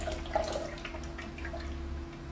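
Juice pours from a juicer in a soft, steady trickle with light dripping and splashing, quiet and close, over a faint constant hum, with no one talking.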